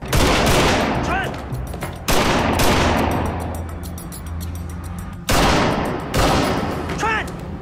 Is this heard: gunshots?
yes